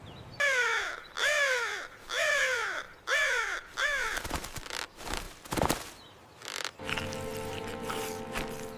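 A crow gives five loud, harsh caws in an even rhythm close by, then rustling, scuffing movement and a faint buzzing hum follow.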